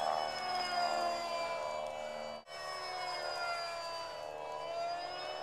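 Motor of a homemade RC pylon racer plane running at a steady, loud, high-pitched whine, with a brief sharp dropout partway through before the drone resumes.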